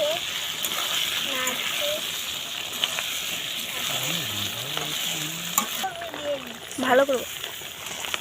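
Ginger and cumin paste fries with a steady sizzle in a pan at an outdoor family picnic, stirred now and then with scraping clatters, while people talk over the cooking throughout.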